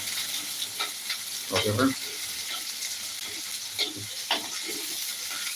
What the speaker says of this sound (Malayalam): ചെറിയ ഉള്ളി നല്ലൊരു സൗണ്ട് വരും നന്നായിട്ട് എണ്ണ തിളക്കിയിട്ടുണ്ട് അതുകൊണ്ട് സൗണ്ട് അത്രയും വരുന്നത്